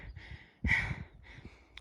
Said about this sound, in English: Heavy breathing here.